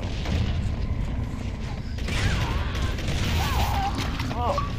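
Gunshots aimed at the player in a shooter game crack in scattered bursts over continuous game ambience, moderately loud, with a voice talking over them.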